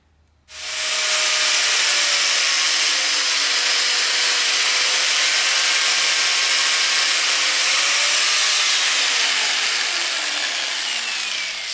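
Angle grinder cutting through a tape-wrapped line, starting abruptly after brief quiet and holding a loud, harsh, continuous grinding hiss for over ten seconds before easing slightly at the end.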